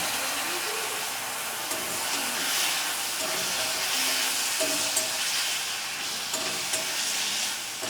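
Ground spices with turmeric and coriander powder fry with a splash of water in a pan, giving a loud, constant hissing sizzle with soft stirring scrapes throughout.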